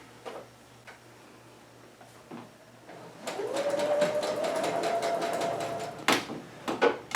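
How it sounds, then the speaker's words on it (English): Sewing machine stitching a spandex bodysuit sleeve seam: a few scattered clicks, then a close, steady whirring run of rapid stitches for about three seconds, ending with a couple of sharp clunks. "you're going to stitch all the way down the edge of the sleeve to where the armpit meets"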